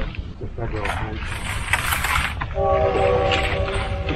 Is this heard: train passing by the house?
yes